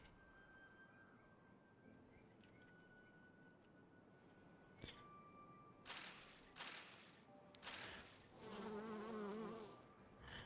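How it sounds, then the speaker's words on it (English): Bees buzz faintly in the Timberborn video game, a soft insect drone under quiet game ambience, broken by sharp clicks and brief whooshing interface sounds, with no speech. "I still don't really know what those bees are doing."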